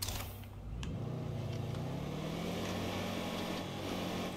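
Motorbike ridden in the zombie survival game State of Decay 2, a steady engine drone with a low pitch rising as it speeds up, loud and continuous throughout with no talking.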